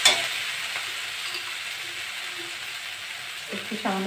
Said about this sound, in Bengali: ভালো করে আস্তে আস্তে গ্যাসটা কম করে ভাজবো।